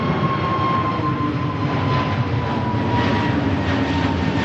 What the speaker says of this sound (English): KLM heads back to Amsterdam in the form of a 321neo.